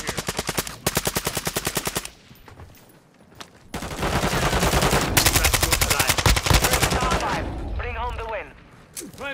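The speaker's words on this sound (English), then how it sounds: "I'm taking fire." Rapid automatic gunfire rattles through a battle royale video game in loud, dense bursts, with a sustained stretch of fire and chirping effects near the end.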